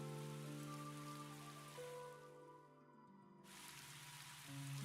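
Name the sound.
rain in video game Tales of Graces F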